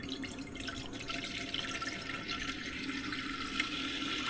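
Water pours steadily into a pot for boiling eggs in the galley of a sailboat at anchor, a continuous close splashing rush lasting several seconds without talk.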